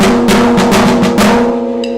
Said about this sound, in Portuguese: Este é o som da caixa.